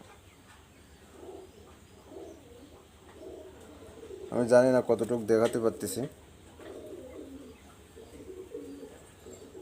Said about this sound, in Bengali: এখানে 2 পিস কবুতর আমি দেখাচ্ছি, দেখেন একবারে পিওর চোখের কবুতর।